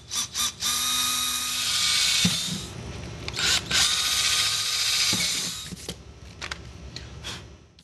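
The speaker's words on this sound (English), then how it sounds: "Remove the bag and drill some holes." A power drill whines loudly in sustained bursts, drilling holes in a motorcycle saddlebag, pausing briefly between holes, with shorter spurts of drilling near the end.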